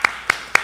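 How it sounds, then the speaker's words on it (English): Three sharp, close hand claps in quick even succession, offered as a round of applause for Margaret at the S.S. Atlantic annual general meeting. "I'd just like to give Margaret a round of applause for what she's done"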